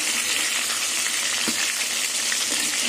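Snakehead fish fried in oil hiss in a dense, constant sizzle close by, with a couple of faint knocks partway through and no talking.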